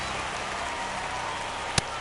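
Continuous stadium crowd noise and applause from a baseball video game, MLB, in a tense ninth inning, a steady even wash with one sharp click near the end.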